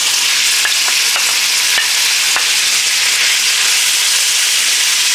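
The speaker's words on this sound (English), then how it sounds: "we're going in with a little olive oil and some bacon" Bacon frying in olive oil inside a cooker, a loud dense hiss held steady throughout, with a few faint clicks early on.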